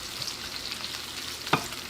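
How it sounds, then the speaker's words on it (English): Onions and garlic simmering in oil for a curry, a soft, steady close sizzle with one brief clink of a utensil near the end. "Now we got the onions simmering and the garlic simmering as well."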